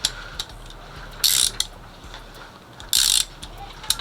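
A socket wrench ratchets while fitting an EGR block-off plate on an Olds 307 engine, outdoors in the cold. It gives two distinct bursts of rapid clicking plus a few single ticks, close and fairly loud.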